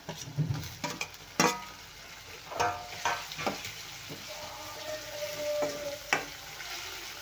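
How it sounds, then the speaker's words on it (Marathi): Tomatoes go into hot oil with green chili, garlic and coriander for a green pea aamti, giving a close sizzle broken by sharp clatters and scrapes of stirring in the pan. "आता आपण घालूया टोमॅटो।"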